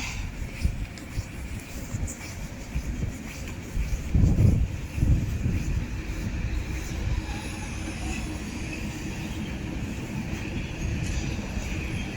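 A heavy locomotive rumbles slowly up to railway wagons nearby with low mechanical groaning and a brief louder clunk, steady railway noise throughout with faint background voices.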